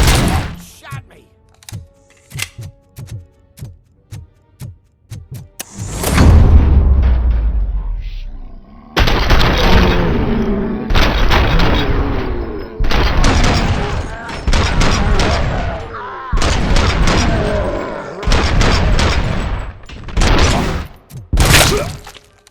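Gunfire in the video game RoboCop: Rogue City: sharp bursts and volleys of shots cracking repeatedly in close, loud clusters, mixed with impacts and game noise, while a player speaks briefly.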